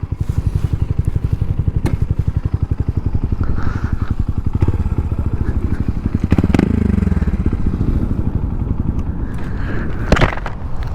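A 2022 Honda Monkey motorcycle fitted with a Termignoni exhaust, running with a loud, close, steady pulsing idle and repeated revs that swell and fall back across the whole stretch, with no talking.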